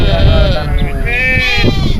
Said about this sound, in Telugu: జయశంకర్, ముందుగా వర్షాకాలం మీరు గొర్రె ఎక్కడ పెట్టుకుంటారు?